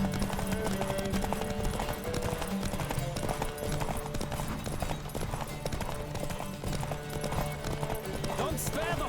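Rapid hoofbeats of a galloping horse in The Witcher 3: Wild Hunt race on steadily beneath game music and spoken dialogue, with an occasional whinny.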